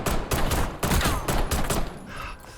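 Rapid pistol fire in the Warzone game on Rebirth Island, several loud, closely spaced shots in a choppy string that fades toward the end.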